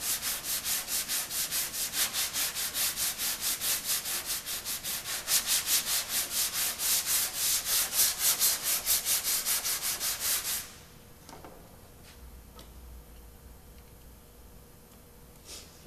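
A sanding block rubs body filler off car paint in fast, even back-and-forth strokes for about ten seconds, loud and rhythmic, then stops, leaving faint handling noises.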